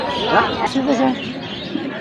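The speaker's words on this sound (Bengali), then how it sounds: "মির্জাপুর কবুতরের হাটে। প্রতি শুক্রবার সকাল থেকে এখানে সাপ্তাহিক হাট বসে।" Pigeons coo softly at a busy weekly pigeon market in Mirzapur, their low calls mixed into a hum of crowd chatter nearby.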